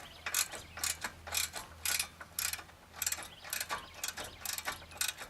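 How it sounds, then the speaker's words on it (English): A ratchet wrench cranks to loosen the bolts holding a part in place on a car, giving a run of sharp, evenly spaced clicking bursts close by over a low steady hum. "We need a wrench like this, and we're going to loosen the bolts that hold it in place."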